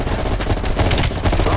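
Machine gun fire in the Call of Duty Cold War video game, a dense, sustained firefight with continuous overlapping bursts at steady loudness throughout.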